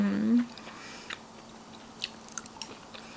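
Someone eats a bowl of noodles with char siu, a brief hum of appreciation at the start followed by quiet, close, intermittent chewing and soft crunchy bites.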